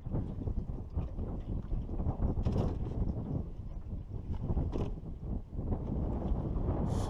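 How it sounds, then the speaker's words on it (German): Strong wind buffeting a microphone at a Swedish lake while fishing from a belly boat, a continuous loud roaring rumble with gusty swells and occasional higher rustles, no voices. "und voll im Wind, ey!"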